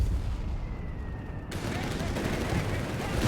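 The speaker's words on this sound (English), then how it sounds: "We just pulls the trigger on the MG42" MG42 machine gun fire in the game Company of Heroes 3, with a dense, continuous burst of rapid shots that kicks in abruptly partway through and keeps going over the battle noise.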